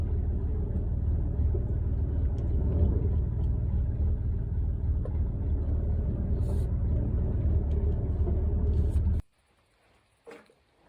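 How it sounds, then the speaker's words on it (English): A tractor engine idles with a low, steady rumble while getting ready to move a DSM Eclipse car, then cuts off abruptly near the end, leaving near silence with a faint clank. "Getting ready to move it with the tractor."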